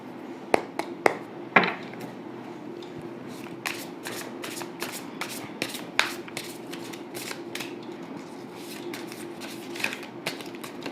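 A deck of tarot cards being shuffled by hand, with close, crisp riffling flutters and sharp card taps scattered across the clip over a faint steady background hum.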